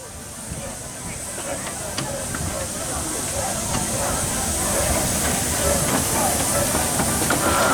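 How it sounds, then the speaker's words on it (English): A 4-inch scale Burrell road locomotive steams into a show arena, giving off a steady loud hiss with faint mechanical clatter, while a voice talks over the crowd-filled background throughout. "they're coming in now is our 4-inch scale Burrell DCC Road locomotive"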